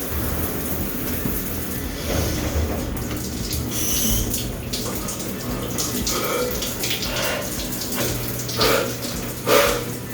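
A cold shower runs with a continuous dense hiss of spraying water, steady throughout, with occasional splashes and faint shifting as someone moves under it.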